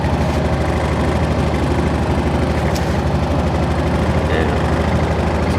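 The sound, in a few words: engine idling after starting up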